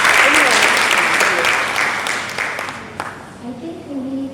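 Audience applause at a tech and innovation panel discussion for girls in Accra, Ghana: a dense, loud burst of clapping that gradually thins and fades, with faint voices emerging as it dies down.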